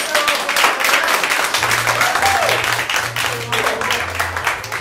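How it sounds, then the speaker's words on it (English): An audience applauds at a Whose Line comedy improv show in St. Pete, with steady dense clapping throughout and a voice talking over it. "based on that applause there, I would give that 3 points."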